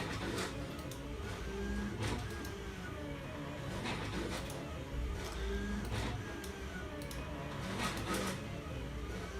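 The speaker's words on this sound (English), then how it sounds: "While it's cutting on my Silhouette" A Silhouette cutting machine cutting score lines, a faint mechanical whirring with soft rhythmic clicks and motor pulses repeating steadily, with no voices.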